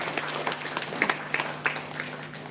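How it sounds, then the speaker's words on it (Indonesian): An audience at a nursing seminar applauds briefly, a short burst of scattered clapping in a reverberant hall with a steady background hum, without speech. "Beri aplaus yang meriah."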